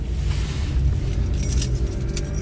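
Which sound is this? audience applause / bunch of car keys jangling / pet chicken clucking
bunch of car keys jangling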